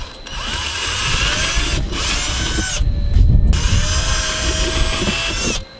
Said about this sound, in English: I kind of want to drill some holes in the battery box